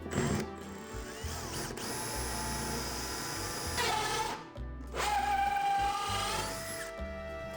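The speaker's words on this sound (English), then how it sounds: "So now we're going to drill these holes." A power drill whines up to speed and bores holes for a bathroom vanity unit in two long bursts, pausing briefly between them, close and loud.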